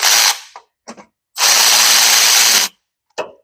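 A power drill tightens a bolt during a repair: short bursts of loud whirring, with one longer sustained run in the middle and brief silences between.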